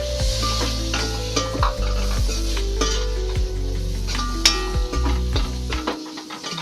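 Two small tomatoes go into a frying village-style chicken curry masala. A loud close sizzle runs with repeated metal spoon scrapes and clinks against the pan, then cuts off near the end.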